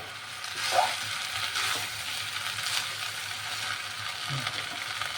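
Raisins and cashews fry in hot oil in a pan while being stirred, a steady close sizzle with a few scraping stirs and light clinks running throughout.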